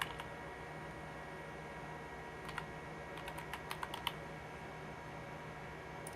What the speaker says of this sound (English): I'm going to type just my Jamboard.